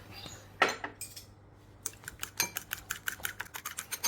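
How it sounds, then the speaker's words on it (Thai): A spoon whisking soy sauce, oyster sauce, sugar and pepper together in a bowl: a quiet pause, a couple of isolated clinks, then a run of quick, regular metallic taps. "ตีให้เข้ากันอีกสักเล็กน้อยครับ"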